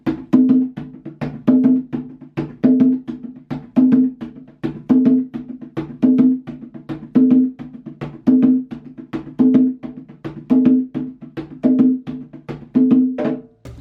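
Hand drum played in a steady repeating groove, with loud accented strokes standing out against soft ghost notes between them, a clear even rhythm continuing close and alone for the whole stretch.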